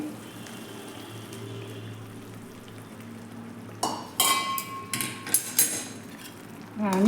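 Hot water is poured into a sizzling egg masala gravy in a pan and stirred, with a quiet low simmer first, then a burst of hissing bubbling and scraping spoon strokes, close and fairly loud.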